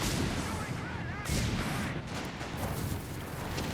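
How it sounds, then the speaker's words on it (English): Stuka zu Fuß rocket artillery fires in Company of Heroes 3, heavy rumbling blasts and crashing impacts rolling together in a loud, dense battlefield din. "Stuka zu Fuß is an amazing artillery piece."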